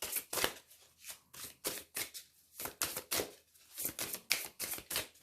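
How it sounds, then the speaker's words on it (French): Lenormand fortune-telling cards being shuffled by hand: quiet, close riffling bursts in uneven clusters of crisp paper flicks, with no talking. "Je vais faire 9 cartes avec Mademoiselle Lenormand."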